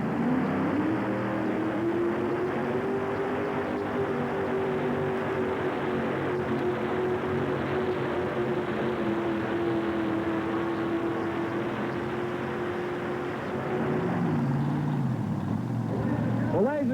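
A tractor pull run by a tractor with two 482 cubic inch Chevrolet engines, roaring loud and steady with a rising, sustained engine tone for most of the run, then dropping off near the end.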